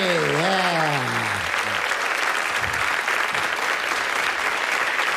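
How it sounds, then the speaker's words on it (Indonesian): Concert crowd applauding at a live stage show, a dense, continuous roar of clapping that stays loud and even, with a brief sung or spoken voice rising over it at the start. "Tepuklah."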